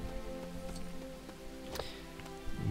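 Rain falls in the LEGO Lord of the Rings video game, a soft patter of drops over a steady game tone with a few sharp clicks.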